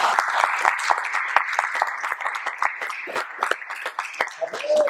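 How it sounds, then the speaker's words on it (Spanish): A church congregation claps steadily in sustained applause, with voices mixed in underneath. "En el nombre de Jesús, y un aplauso al Señor."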